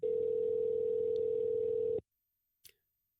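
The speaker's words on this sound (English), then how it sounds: "I heard the phone ring a few times, and then she picked up." A phone call placed in the video game Cemetery Mary: a steady electronic ring tone holds loud for two seconds, cuts off, then a brief faint click follows in silence.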